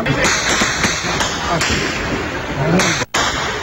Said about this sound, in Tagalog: Tuloy-tuloy pa rin daw ang putukan sa pagitan ng militar at ng Maute.